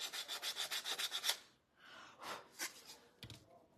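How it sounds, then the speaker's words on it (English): A wooden craft star being sanded by hand: a quick run of about ten rhythmic rubbing strokes up close, then a pause and a few slower, scattered scrapes, with no talking. "let me sand my star again."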